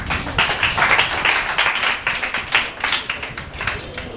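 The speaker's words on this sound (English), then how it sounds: "Can we clap more than that?" Audience clapping at a lecture, a dense burst of many hands applauding steadily for several seconds, loud and close, with no voices.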